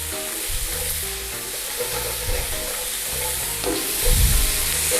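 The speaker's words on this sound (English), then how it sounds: "Cook these onions so they go translucent." Chopped onions fry in a pan with a steady, close sizzle and occasional stirring scrapes, cooking with salt and black pepper as the base for pork chops in a creamy mustard sauce.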